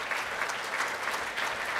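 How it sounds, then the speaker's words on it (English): Brief burst of audience applause at a live podcast debate, fairly quiet and steady dense clapping with no voices over it. "I would like to give a round of applause for these guys."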